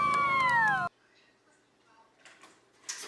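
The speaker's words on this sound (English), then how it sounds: "the cat's like freaking out" A distressed cat lets out a loud, drawn-out, wavering meow that cuts off abruptly, followed by quiet room noise with a few faint knocks and rustles.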